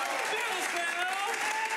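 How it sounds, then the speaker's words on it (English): A studio audience gives a steady, polite round of applause, continuous clapping at moderate level with voices mixed in. "let's start that kind of polite applause"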